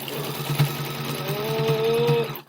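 A domestic sewing machine stitching fabric in a fast steady whir, its needle thumping rhythmically up close, slowing slightly with a brief rising whine before stopping.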